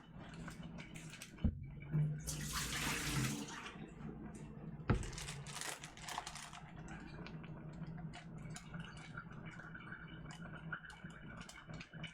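Tap water runs in a home kitchen during ham leg butchery, a steady rushing burst that swells for a second or two, then drops back under clattering dishes and low room noise.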